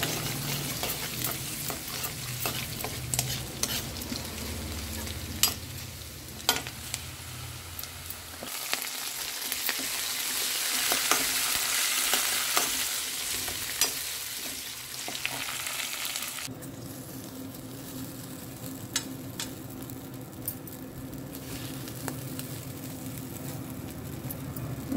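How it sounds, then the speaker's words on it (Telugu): Upma cooking in a pan on a home stove, with steady frying sizzle and repeated scraping stir strokes throughout, fairly close and continuous, without talk. "ఇక్కడైతే ఉప్మా వేస్తున్నాం"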